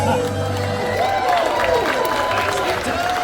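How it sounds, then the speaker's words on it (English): Audience applause and cheering at the Monsters Inc. Laugh Floor show at Magic Kingdom, a steady wash of clapping from the crowd, with a host talking over it. "Keep that applause going for your stars!"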